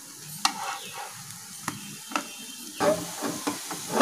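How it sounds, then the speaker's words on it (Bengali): Prawn cutlets fry in oil over medium heat, a soft crackling sizzle punctuated by several sharp clinks and scrapes of stirring or turning at close range. "একটু হালকা আঁচে ভাজতে হবে, জোর আঁচে ভাজলে কিন্তু ভেতরটা কাঁচা থেকে যেতে পারে"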